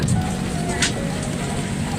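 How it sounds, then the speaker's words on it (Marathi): Monsoon rain falls outdoors in the Konkan region during the Ganpati festival season, a steady, dense hiss of drops on surfaces with a faint low rumble underneath and no voices. "आता बघू शकता पावसाचं आगमन झालेलं आहे"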